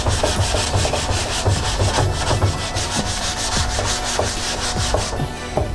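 A car's center console is scrubbed to strip blue paint, making a close, rhythmic series of rough rubbing strokes that repeat steadily before stopping near the end, with no talking.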